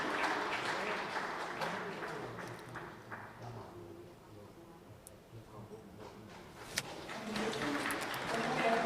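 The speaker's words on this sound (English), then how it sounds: "Round of applause, please." An audience applauds at an environmental award ceremony at a congress, clapping loud at first, easing off in the middle, then swelling again toward the end.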